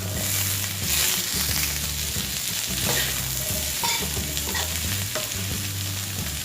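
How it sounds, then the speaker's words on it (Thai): Asparagus stir-fried with crispy pork in a pan gives a steady, close sizzle and frying hiss, with repeated scraping and stirring strokes throughout and no talking. "ผัดให้พอเขาสลดหน่อยนะคะ เดี๋ยวค่อยปรุงรส"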